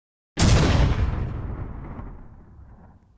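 A loud explosion from an Explosive Shot ability in a Roblox game booms suddenly after a moment of silence, then rumbles and fades away over several seconds.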